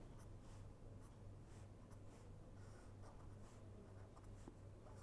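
Pen or chalk writing out equations by hand for an RCC T-beam bridge design calculation, a quiet continuous scratching of the tip over the surface beneath a steady low hum.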